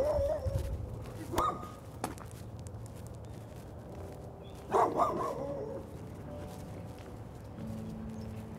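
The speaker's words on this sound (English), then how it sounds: "I have a healthy respect for dogs behind fences." A dog barks from behind a fence on a Chicago street, with a short, nearby burst of two or three barks early on and another louder pair midway, over faint outdoor background noise.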